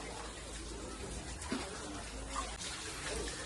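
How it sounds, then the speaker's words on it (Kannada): Water pours steadily from a cow-mouth spout at a temple, a faint continuous splashing rush with light background murmur. "ಗೋಮುಖದಿಂದ ನೀರು ಬರ್ತಾನೇ ಇರುತ್ತೆ"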